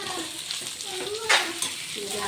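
Garlic, grated coconut and onion fry in a pan with a continuous sizzle, broken by a few scraping stirs and one sharper burst.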